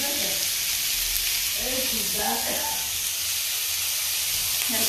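Cabbage, onion and tomato for a pizza topping sautéing in a pan, a loud, steady sizzle and hiss filling the whole stretch, with a voice speaking briefly beneath it.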